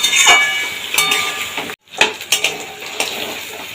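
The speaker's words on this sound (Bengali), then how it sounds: "এবার আমি দিয়ে দেবো এর মধ্যে পেঁয়াজ, আদা আর টমেটোর পেস্টটা দিয়ে সিম আলুর সাথে এটাকে খুব ভালোভাবে ভেজে ফেলবো" Onion, ginger and tomato paste fry with flat beans and potatoes in a pan, heard as loud close clanks and scraping of a metal spoon against the pan in quick irregular bursts, with one brief silent break.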